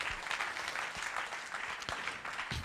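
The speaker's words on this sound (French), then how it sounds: "Applaudissons le Seigneur Jésus-Christ." Church congregation applauding during a French-language worship service, steady dense clapping throughout, heard faintly and at a distance with no voices standing out.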